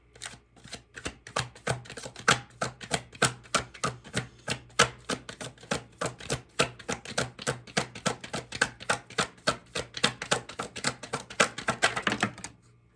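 Tarot cards being shuffled and pulled, a long run of quick, crisp snapping riffles in steady rhythm, close and fairly loud, with no talking.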